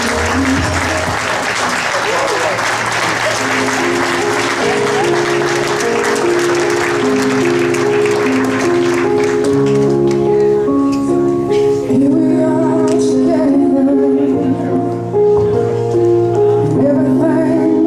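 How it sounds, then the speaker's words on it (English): A crowd applauds loudly at a live event for the first half, then the clapping fades under steady music with sustained tones that carries on to the end. "Give them a round of applause,"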